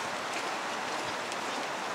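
Rain falls steadily on a cold day at the Ketchikan, Alaska dock where large NCL cruise ships berth, an even, continuous hiss of drops on surfaces with no talking.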